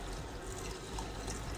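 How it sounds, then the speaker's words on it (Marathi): Boiled chickpea water poured into a chole gravy, a soft continuous splashing pour heard close up for a brief moment. "जेवढा रस्सा हवा आहे त्या प्रकारे तुम्ही पाणी टाकून घ्या."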